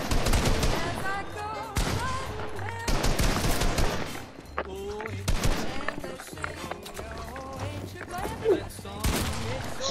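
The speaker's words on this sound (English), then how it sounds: "I shot Seabass in the face" Rapid bursts of video game gunfire crackle through a dense, busy mix, with players talking over the shooting throughout.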